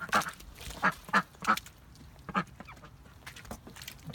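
A duck quacks repeatedly in a muddy backyard, a series of loud nasal quacks close by in uneven bursts, fading to quieter calls.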